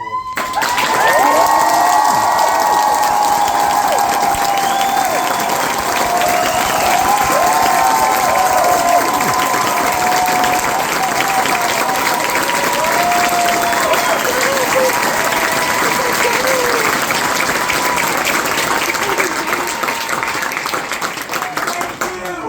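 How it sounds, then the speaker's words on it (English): Sustained applause and cheering from a large London theatre audience at a closing-night curtain call fills the entire stretch, dense clapping with whoops and shouts rising over it, loud and steady throughout. "please, one huge round of applause once more"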